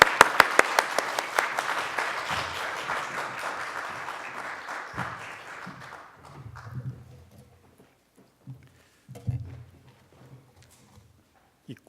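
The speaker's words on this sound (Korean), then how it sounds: "우리 박수로 환영하겠습니다" A church congregation welcomes the preacher with brisk, crisp applause that starts strong, gradually thins and fades after several seconds, leaving a few faint sounds in a quiet room.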